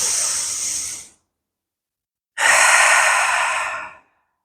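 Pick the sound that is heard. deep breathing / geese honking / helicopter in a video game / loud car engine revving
deep breathing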